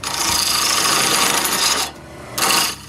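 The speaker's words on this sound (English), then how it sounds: "I make it round using my lathe." A birch block spinning on a wood lathe while a tool cuts it round, giving a steady loud scraping hiss that stops briefly and then resumes in a short burst.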